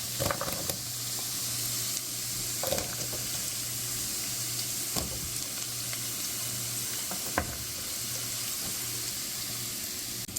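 Diced onion frying with garlic in a pan gives a continuous close sizzle, broken by a few sharp clinks and scrapes of stirring.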